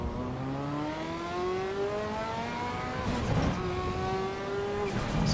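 A Ferrari race car on a track on cold tires revs hard nearby, its engine note climbing steadily through the gears, with a rougher, noisier stretch midway before the pitch rises again.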